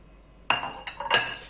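Metal utensils clink and scrape in a frying pan while spinach is being cooked, three or four bright strikes close by over a quiet background.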